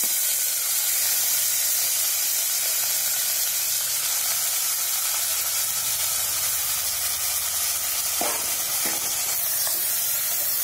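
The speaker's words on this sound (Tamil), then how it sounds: "இப்போ கறிவேப்பிலை மூன்று வரமிளகா போட்டிருக்கேன் அடுத்து அலசி எடுத்து வச்சுருக்கேன் மட்டனை நான் அதில் ஆட் பண்ணுறேன்" Washed mutton goes into a hot pan with curry leaves and three dried red chillies, setting off a loud, continuous sizzle and hiss up close, with a few scraping stirs near the end and no voices.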